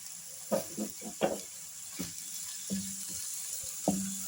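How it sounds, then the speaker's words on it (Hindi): Chonga (Caralluma fimbriata) pieces frying over a medium flame, a soft steady sizzle broken by several sharp clinks and stirring knocks from utensils against the pan, close and moderately quiet with no voices. "मीडियम आंच पे हम इसको फ्राई करेंगे।"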